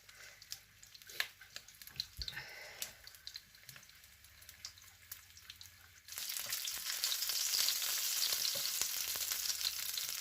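Homemade Isan fermented sausage fries in a pan, a steady close hiss of oil that starts quiet with scattered pops and then jumps to a loud, dense sizzle for the second half.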